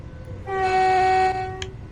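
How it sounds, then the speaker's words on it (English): A train horn in Train Sim World 3 sounds one sustained, loud, steady blast lasting under a second over a low rumbling engine drone, with no speech. "Just honking to my mate."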